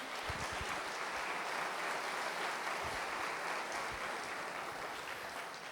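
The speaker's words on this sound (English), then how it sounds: "a big round of applause for Joe or Ivan" A conference audience applauding steadily before a talk, dense clapping that fills the space evenly for several seconds with no voices over it.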